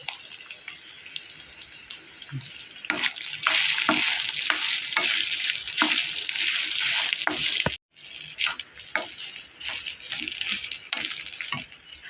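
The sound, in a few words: stirring and mixing rice in a pan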